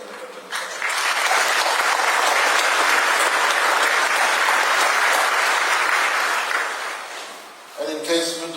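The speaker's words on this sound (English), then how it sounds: "Why don't you join me in giving a big round of applause to all in the mining sector in our country and the petroleum sector." Sustained audience applause fills a keynote hall at a prime minister's speech, rising quickly and holding steady for several seconds before fading, with a voice returning at the very end.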